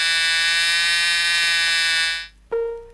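Chrysler seat belt warning buzzer sounding inside the vehicle, a loud continuous harsh electronic drone that cuts off, followed by a brief fainter tonal beep.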